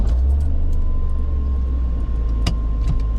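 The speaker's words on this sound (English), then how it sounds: "You can hear that Busso engine fire up." Engine of a 1985 Alfa Romeo with a Busso V6 runs loud and close after starting, a steady deep rumble with a couple of brief clicks from inside the car, heard in the desert.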